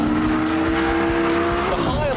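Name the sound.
Lamborghini Gallardo driven hard around a race track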